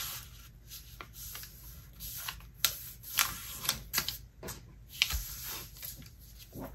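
Sheets of paper being creased and folded by hand into a paper airplane, with soft rustling and several sharp crisp clicks as folds are pressed down, close up and quiet with no talking.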